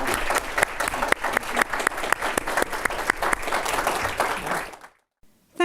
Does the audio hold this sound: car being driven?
no